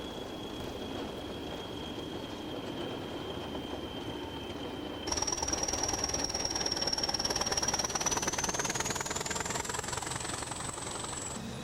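Hunslet-Barclay Class 20 diesel locomotives on British rail hum steadily, with a sustained high whine that jumps in pitch and grows louder halfway through, alone without voices.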